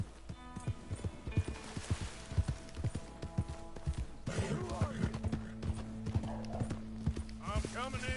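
Horse hooves clip-clop in a steady, uneven trot in Red Dead Redemption, close and fairly quiet, with faint game music and ambience behind and a voice speaking partway through.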